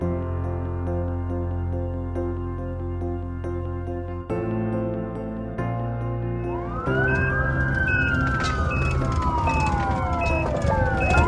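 An ambulance siren from a hospital setting: it begins partway through over a held, droning musical background, then sweeps up and down in pitch, loud and close.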